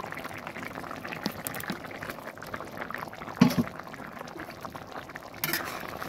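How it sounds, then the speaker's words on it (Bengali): Fish and potato curry for a tengra fish dish bubbling in a pot, a faint, steady simmer with soft liquid gurgles and a brief clink near the middle. "মাছ আলুটা ফুটে উঠেছে, ভালোভাবে সেদ্ধ হয়ে গেছে।"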